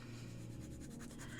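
A fountain pen scratches across paper in quick, faint strokes, set against a steady low hum with no talking.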